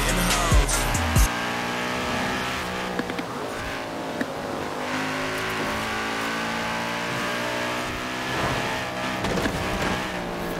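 An Audi driven hard through corners in the racing game Forza Horizon 4, its engine revving up and down continuously with brief tire squeals, loud and close.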